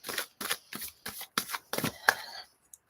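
An oracle deck of cards is shuffled by hand in about seven short riffling bursts with brief pauses between them, close and fairly quiet.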